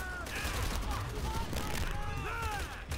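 Gunfire in Call of Duty: World at War, a dense fusillade of shots mixed with in-game combat noise and shouting voices, loud and continuous throughout.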